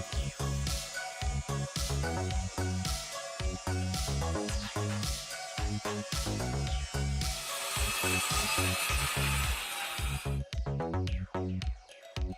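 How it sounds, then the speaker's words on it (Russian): An oscillating multi-tool with sandpaper sanding burn marks off a small wooden box, a loud steady buzzing vibration with rhythmic rasping scrubs against the wood, close up and continuous throughout. "При помощи реноватора с наждачкой уберем следы от прижогов."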